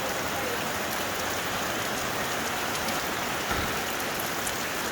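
Heavy rain pounding an awning, a dense, loud, unbroken hiss of drops drumming on the fabric, with no voices over it.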